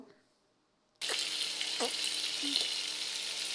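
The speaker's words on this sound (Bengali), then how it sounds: "তো এটা একটু ভাজা ভাজা করবো।" A blended paste of ginger, garlic, coriander and cumin hits a hot pan with onion paste after a second of near silence. It sets off an abrupt, loud and steady sizzle close by, with a few faint stirring knocks.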